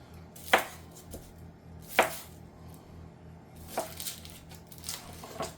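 A knife chops shallots on a cutting board, giving a few sharp, close, well-spaced chops with softer knocks between them, no talking.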